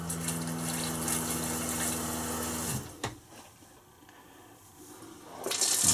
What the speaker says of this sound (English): if you press on the flush pedal very lightly, then it will fill up with water